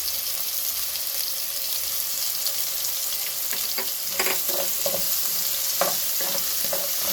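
Ground green chili paste sizzles and fries steadily in a pan while making gongura thokku, with intermittent scraping stirs growing busier toward the end, fairly close and loud with no talking.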